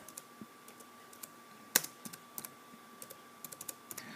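Computer keyboard typing, a string of irregular light key clicks with one sharper louder strike, close and quiet with no voices over it.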